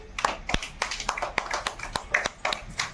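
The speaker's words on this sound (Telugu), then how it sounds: "క్లాప్స్ కొట్టండి" Children clap at a game prize announcement, about a dozen uneven, sharp claps scattered quickly across three seconds, close and fairly loud with a faint murmur underneath.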